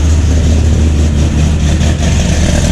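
A C6 Corvette Z06 with swapped heads, cam and intake idles loud and rough, a deep, throaty rumble with a choppy, uneven lope that holds steady from start to finish and has no voices over it.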